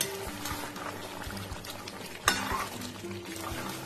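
Chicken stir-fried in its own released juices, a steady scraping stir with a soft sizzle underneath and one sharp clank of the utensil against the pan midway, close and continuous.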